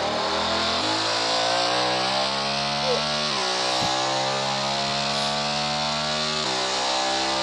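A car engine revs close and loud, pitch climbing through the rpm in several steady pulls with brief drops between, no talking.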